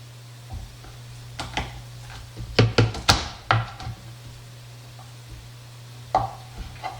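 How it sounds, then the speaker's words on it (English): Several sharp knife chops on a cutting board as two garlic cloves are finely chopped, a quick burst in the middle and a couple more near the end, over a steady low hum. "The noise that you hear in the background is me cutting the garlic."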